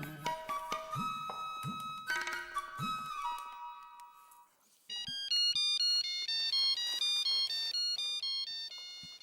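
A melodic telephone ringtone plays loud and close in a Hindi sitcom household, a repeating electronic tune of bright stepped tones that stops briefly and then resumes, with no talking over it.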